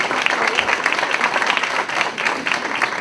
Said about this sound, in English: how about a warm round of applause for Board Member Bennett Kaiser